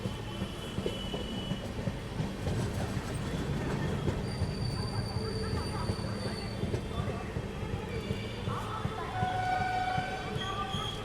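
The Netaji Express rolls into Aligarh Junction in Uttar Pradesh with a continuous rumble of rails and wagons, thin high wheel squeals rising over the clatter as it slows.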